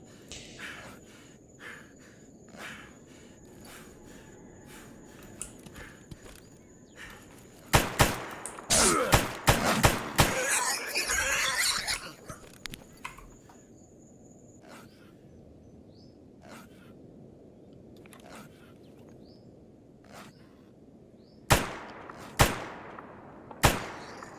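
Gunfire in the video game Escape From Pripyat from a gun with heavy recoil, sharp single shots spaced through the clip, a dense rapid burst in the middle, and three loud closing shots.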